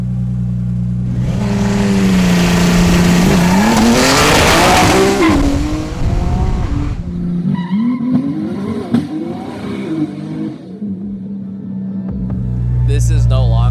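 A fully built Nissan R35 GT-R drag car, fitted with a parachute, runs close by in Brunei. The engine roars loud and rising, sweeps through revs, then drops to a rough, uneven burble before surging again.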